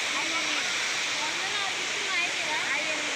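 Spray from the Gandahati waterfall near the Taptapani hot spring makes a steady, dense roar of falling and splashing water. It stays loud and constant throughout, with voices faintly present beneath it.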